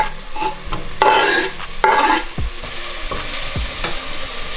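Chopped mushrooms hit a hot risotto pot with a loud sizzle, followed by steady frying and scraping stirs, with no one talking.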